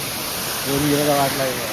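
A forest waterfall in rural Konkan gives off a steady, broad rushing roar, with a voice briefly speaking over it.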